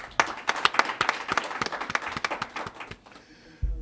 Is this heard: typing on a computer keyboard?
no